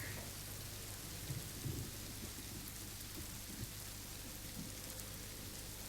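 A nighttime thunderstorm with heavy rain gives a steady, dense hiss of downpour under low rumbles of thunder, faint and continuous without any speech.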